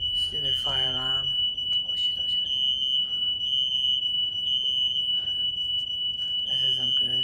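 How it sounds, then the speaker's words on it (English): A fire alarm in The Last of Us video game rings steadily through the whole stretch, a continuous piercing electronic tone, with a voice speaking briefly near the start and again at the end. "Fire alarm."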